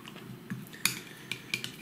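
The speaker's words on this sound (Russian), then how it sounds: "Размешиваем ее с соусом." A spoon stirs lemon zest into a sauce for steamed zander in a Chinese-style recipe, giving a few light metallic clinks and scrapes against the bowl, close and isolated.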